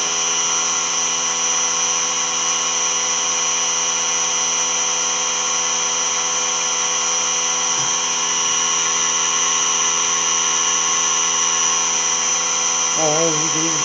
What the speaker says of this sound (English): I have to wait for the air compressor to charge.